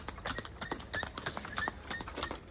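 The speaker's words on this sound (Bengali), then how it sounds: "ঘোড়া গাড়ি" Hooves of a horse pulling a cart clop on the road in a quick, fairly regular rhythm, moderately near but soft, over light background noise.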